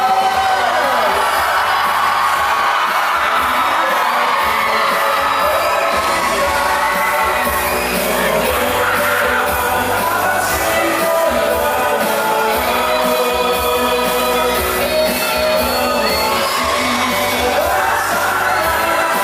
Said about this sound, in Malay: kita berikan tepukan sekali lagi kepada Tony Gutierrez